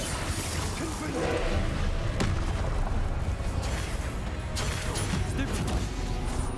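Loud Confringo spell blasts and crashes in combat in Hogwarts Legacy, dense booming impacts and whooshes layered over constant game noise, with a voice speaking through the action.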